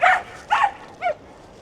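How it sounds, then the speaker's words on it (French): A dog barks three times in quick succession, loud and close, with short pauses between the barks and quiet in between. "Toujours mon chien qui fout le bordel."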